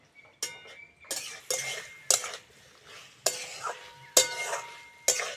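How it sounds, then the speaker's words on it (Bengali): A spatula scrapes and clinks against a pan in repeated, rhythmic strokes while spice paste is cooked down for Bengali shukto, with only a faint sizzle between the strokes. "মশলাটা দিয়েছি এবার ভালো করে কষে নেব"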